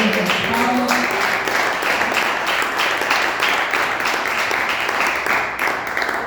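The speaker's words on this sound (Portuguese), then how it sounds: "exaltar o nome do Senhor com as palmas" A church congregation claps together in praise during a worship service, a dense, sustained wash of hands that holds steady from start to finish.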